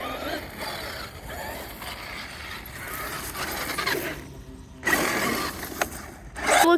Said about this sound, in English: I hear it kind of clicking.